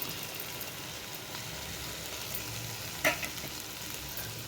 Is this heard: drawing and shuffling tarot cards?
no